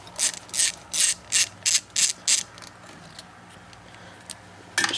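Hand ratchet clicking as it backs bolts out of a small engine's ignition coil, seven close, crisp bursts in an even rhythm, then quiet with a final click at the end.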